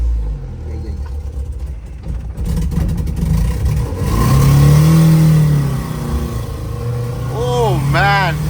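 A Maruti Gypsy engine revs and surges while the vehicle drives along a narrow road, loud and close, its pitch rising and falling with acceleration, with a person talking over it near the end.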